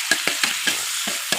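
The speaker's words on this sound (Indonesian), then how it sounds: "setelah kita selesai menggoreng tempe dan terong cepokanya" Tempe and cepoka eggplant frying in a pan, with a soft sizzle broken by about seven sharp clacks of a utensil stirring against the pan in an uneven rhythm.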